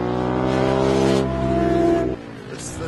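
Motorcycle engine at Chuckwalla Valley Raceway, a loud, close, sustained buzzing drone that holds steady, then drops away near the end.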